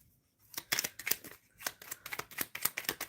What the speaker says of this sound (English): I'm shuffling to clarify this Fool card for Aditi.